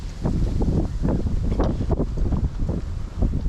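Gusty wind buffets the microphone outdoors on a cold, brisk day, a steady rumbling roar with surging low bursts throughout and no voices.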